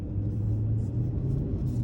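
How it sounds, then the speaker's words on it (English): A Nissan Titan Pro-4X pickup's V8 engine rumbles steadily while the truck drives, a low continuous drone heard from inside the cab with no talking. "I like the way this V8 sounds."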